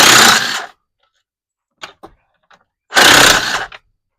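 Two loud, close bursts of rapid whirring from a tool spinning out the 8 mm throttle body bolts on a Jeep Gladiator, separated by a quiet pause with a few faint metallic taps.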